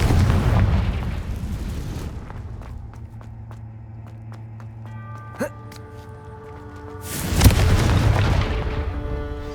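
A Confringo fire spell explodes in the Hogwarts Legacy video game. A deep, rumbling boom opens the clip and a second loud blast follows several seconds later, with quiet tonal game music in between.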